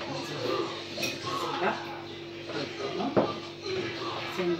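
A spoon clinks and scrapes against a bowl while dessert batter of oil, bread yeast and flour is mixed, with repeated light knocks and a faint background voice throughout.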